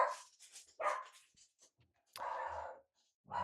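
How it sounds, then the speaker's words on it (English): Dogs bark in a quick, close run of sharp woofs, followed by a pause and a longer, rougher bark burst, with near silence between the calls. "Dogs run through the keep."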